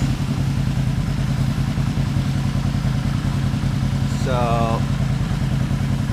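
A Yamaha XS500 motorcycle engine idles at a steady, even rumble, loud and close throughout, with a brief spoken word partway through.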